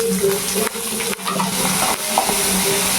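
Sliced onions frying in a pan for a Tamil lentil dumpling curry, a steady close sizzle with occasional stirring scrapes and clinks.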